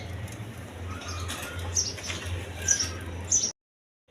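Pigeons at a farm raising colour breeds with eggs and chicks, heard as soft intermittent wing flutters and faint high chirps over a steady low hum, ending abruptly in silence.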